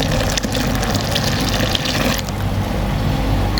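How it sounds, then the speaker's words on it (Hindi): About a glass of water poured into a cooking pot holding ground spices for a beef masala cooked in desi ghee, a loud, continuous splashing gush heard close up, with no speech. "और दोस्तों इसके साथ हम तकरीबन 1 गिलास पानी ऐड करेंगे।"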